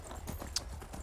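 Horse hooves clip-clop in a steady rhythm during a horseback ride in the video game Skyrim, close and continuous over a low background hum with no talking.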